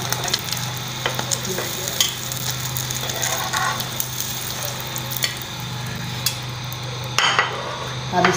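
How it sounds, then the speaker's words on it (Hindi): Eggs fry in oil in a home kitchen pan for egg fried rice, giving a steady close sizzle with scattered scraping and stirring clicks throughout, and no one talks. "ये अंडा फ्राई कर देंगे इसके अंदर"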